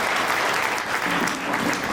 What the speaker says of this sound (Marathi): मला वाटते त्यांच्या नावाने पुन्हा एक वेळ टाळ्या वाजवायला काही हरकत नाही.